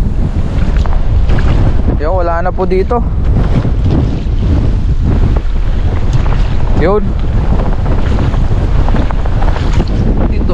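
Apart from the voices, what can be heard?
strong wind at sea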